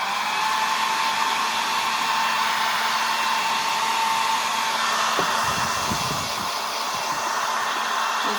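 A hair dryer blows steadily on a painted kindness rock set on a table, a loud continuous whoosh with a faint whine that runs unbroken throughout, with a few light knocks near the end.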